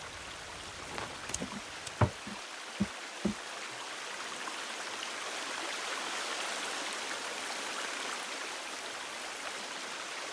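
Water is collected from a stream in the survival game The Forest: a steady rushing flow fills the scene, with a few sharp knocks and splashes early on.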